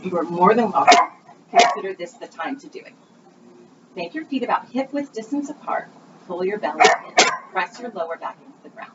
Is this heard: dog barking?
yes